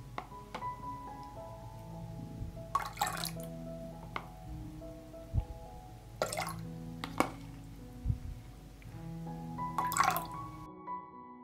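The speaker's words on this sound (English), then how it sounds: "I add a tablespoon of lemon juice to the pot." Lemon juice spooned into a pot while preparing jars for canning, heard as a few close, short wet splashes and drips spaced a few seconds apart over a low background hum, with no talking.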